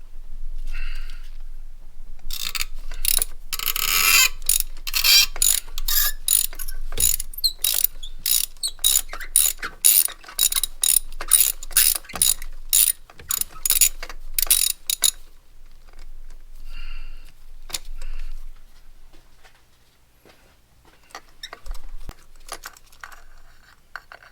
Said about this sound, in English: So I use the 2 extension to go deeper and reach that spark plug. And now we're gonna go counterclockwise.